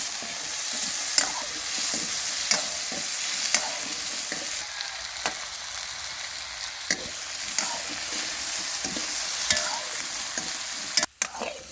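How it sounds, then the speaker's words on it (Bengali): Steady crackling sizzle of potatoes frying in oil, with occasional sharp clinks and scrapes of stirring, continuous and fairly close. "আমি আলুটা ভেজে নিই আগে একটু"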